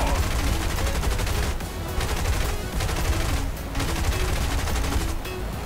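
Gunfire in the War Thunder combat video game, a dense, continuous barrage of loud overlapping shots and booms that barely lets up.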